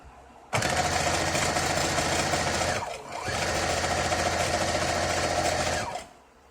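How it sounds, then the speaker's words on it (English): A sewing machine runs steadily while stitching a pillowcase shut, a close, loud mechanical whirr lasting several seconds with a short dip in the middle and no talking. "Now we're going to sew the pillowcase shut."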